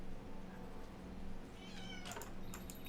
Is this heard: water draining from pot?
no